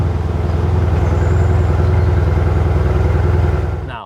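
Stock Mercedes C63 S exhaust with its valves closed, a steady loud engine rumble close by, holding even for about four seconds before cutting off.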